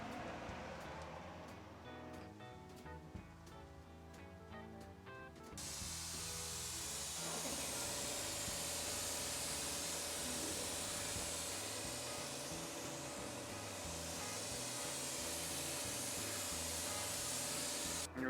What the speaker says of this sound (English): So it's getting ready to spray the primer